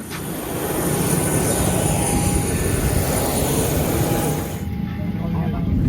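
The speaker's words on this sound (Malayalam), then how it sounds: "ഒരു മെൽബണിലേക്കുള്ള ഫ്ലൈറ്റ് കയറി അപ്പം അങ്ങനെ ടേക്ക് ഓഫ് ആകുന്നു കേട്ടോ" A passenger airplane on a flight to Melbourne from Hobart, Tasmania, roars steadily through its takeoff run, a loud continuous broadband engine rumble that holds nearly constant and eases slightly toward the end.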